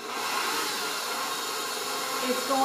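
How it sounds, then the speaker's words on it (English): An electric mixer runs steadily on a bowl of warm king cake mixture, a continuous whirring hum that holds even and fairly loud throughout. "we're just going to take our mixer and turn it on"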